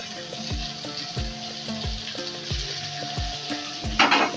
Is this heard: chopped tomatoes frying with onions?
yes